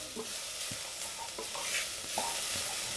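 Onions, celery and carrots with a spice blend being stirred in a pan, with a steady close sizzle and a few soft scrapes of a spoon across the bottom throughout.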